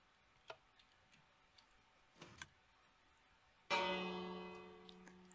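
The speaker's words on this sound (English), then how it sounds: "And we get the noontime bell." A redstone clock tower in the Minecraft video game ticks softly a few times, then its noontime bell strikes once with a loud, bright ring that decays slowly over the remaining seconds.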